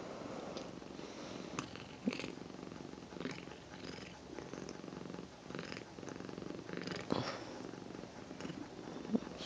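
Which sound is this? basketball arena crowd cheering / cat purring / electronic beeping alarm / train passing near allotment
cat purring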